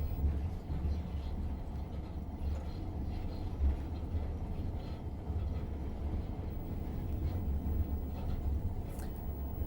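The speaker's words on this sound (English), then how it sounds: "it's just the momentum of the train carrying us forward" A heavy 4,500-tonne freight train coasts along the track on momentum, heard from on board as a steady low rumble with continuous rolling noise and faint intermittent clatter throughout.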